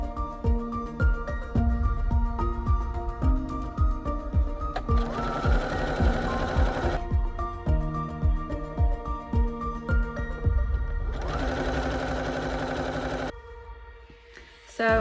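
A sewing machine runs in steady rapid bursts, stitching quarter-inch seams along fabric strips for a scrappy patched quilt, its needle clatter loud and close with short pauses between runs.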